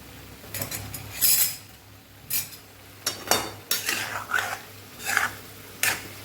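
Garlic potatoes with spices are stirred gently in a pan, giving intermittent metal scrapes and clinks of a utensil against the pan, moderately close, with quiet gaps between strokes.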